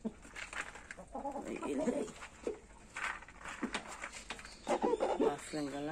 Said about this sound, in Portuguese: Uma franga lá, galinha caipira, a carijó, o galo e outro galo